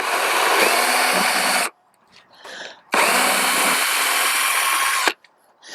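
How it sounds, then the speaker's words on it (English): A power drill driving screws into a wooden garden box whirs loudly in two sustained bursts, each lasting a couple of seconds, with short pauses and faint clatter between them. "I'm just going to drill this last one"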